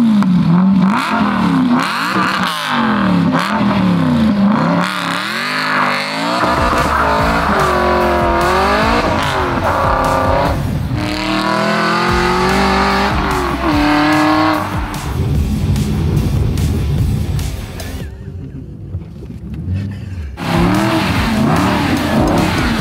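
A tracked buggy with an exposed engine slides on snow at a ski resort, its motor revving up and down in repeated rising and falling bursts, with scraping and skidding noise between pulses.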